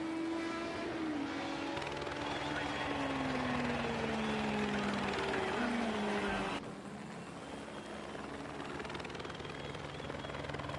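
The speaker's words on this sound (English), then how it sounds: "It's a helicopter, that was right." A steady mechanical engine drone with a falling, Doppler-like pitch sweep, loud and continuous, easing off and thinning out near the end.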